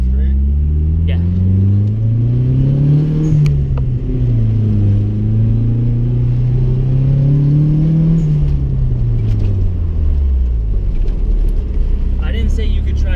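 A Nissan 240SX engine drones while driving, a loud steady rumble rising and falling gently with shifting revs, with people talking over it inside the car.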